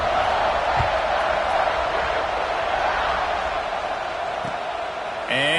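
Stadium crowd cheering in a college football video game, Ohio State vs Florida: a sustained, roaring crowd bed holding steady throughout, with a commentator's voice talking over it.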